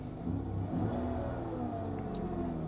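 A car with 55,000 miles revs and runs steadily up close, its low engine rumble carrying a faint whine that might come from the power steering or transmission.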